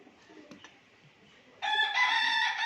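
A rooster crows once, loud and close: a bright, strained call that bursts in after a quiet stretch of faint farmyard sounds and holds to the end.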